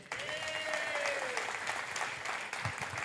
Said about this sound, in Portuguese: Salve de palmas essa mesa de som, né?